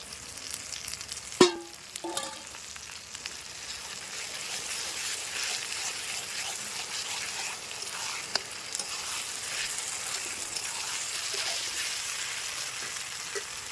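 Ginger garlic paste hits a pan for mutton curry with a sharp clatter, then settles into a steady, moderately loud sizzle with occasional stirring scrapes and no talking.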